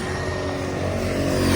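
A superbike engine idles and revs steadily up close, a continuous throbbing motor tone with harmonic layers that swells slightly at the end, no voices.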